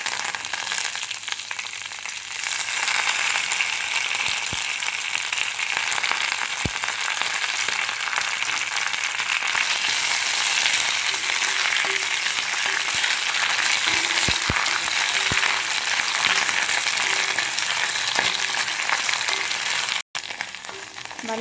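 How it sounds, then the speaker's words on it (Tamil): Brahmi leaves frying in plenty of oil over a medium flame in a cast iron pan, a steady broadband sizzle that holds loud and even throughout, with a few faint clicks of utensils and no speech. "வல்லாரைக்கீரை வணங்கிறதுக்கு டைம் எடுக்கும். நல்லா மீடியம் ஃப்ளேமில் வச்சு பொறுமையாக ஃப்ரை பண்ணுங்கள்."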